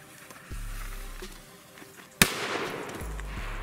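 New Year's Eve firecrackers and fireworks go off in a few sharp bangs with one especially loud crack midway, set against low background rumble and faint distant pops.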